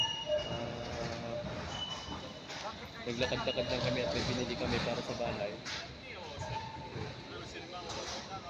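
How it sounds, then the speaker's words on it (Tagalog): A train pulls into a busy station, its steady rumble and squealing wheels building around the middle and then easing off, with a person speaking over it and crowd noise in the background. "So dumating na yung isang tren sa kabila."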